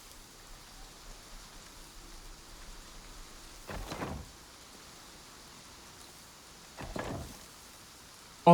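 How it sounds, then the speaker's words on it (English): A sudden storm brings steady rain pattering on a surface, with two brief rolls of thunder rising above the hiss partway through, and no voices. "this storm literally just came in like out of nowhere"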